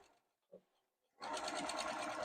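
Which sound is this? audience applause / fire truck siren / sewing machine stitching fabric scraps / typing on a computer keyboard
sewing machine stitching fabric scraps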